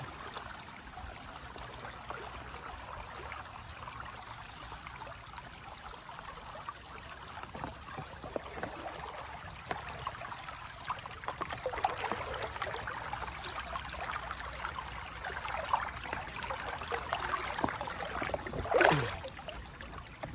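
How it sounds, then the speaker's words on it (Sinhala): Clean water pours and trickles steadily into a bottle at an outdoor camping spot, a soft continuous flow that swells slightly near the end. "ඉතින් අපි පිරිසිදු වතුර ටිකක් පුරවා ගන්නවා."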